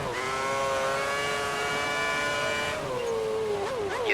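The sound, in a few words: race car wheel spin on power, F1 2010 video game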